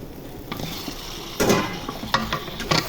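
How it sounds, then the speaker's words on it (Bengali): Pieces of country chicken sizzle in a pan of fried spices while being stirred, a low crackle broken by a few sharp scraping strokes and clinks of the spoon against the pot, with no talking. "মশলা ভাজা ভাজা হয়ে গেছে, এখন মাংস ঢেলে দিব।"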